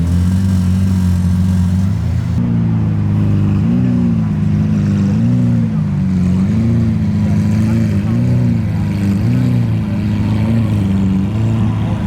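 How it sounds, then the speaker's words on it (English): A Lamborghini V12 engine revs at a crowded TX2K car meet, a loud, rumbling low drone that swells and wavers in pulses throughout, close by and steady. "I hear with my little ear revving V12 Lambos."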